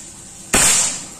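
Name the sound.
PCP air rifle shot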